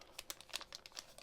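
A Kayou Marvel trading card booster pack wrapper tearing open: quick, close crinkling and crackling bursts of foil-like plastic in an uneven series, fairly quiet, with no voices.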